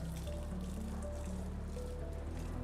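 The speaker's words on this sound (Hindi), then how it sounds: "चरखा घूम रहा है, पानी लोड कर रहा है, गिर रहा है।" Water pouring steadily from a turning water wheel in a shopping mall, with a continuous splashing trickle and a low background hum of the indoor space.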